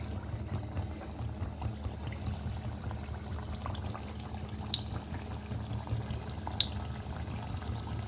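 Pieces of food fry in hot oil turned down to low heat, a quiet, steady bubbling hiss with a couple of faint clicks and no voices.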